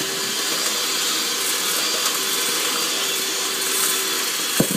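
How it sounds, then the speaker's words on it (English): Electric whisk on a fast setting creaming butter and sugar in a bowl for banana and walnut bread, a continuous loud whirring buzz with a brief clunk near the end. "But I'm fortunate enough to have an electric whisk"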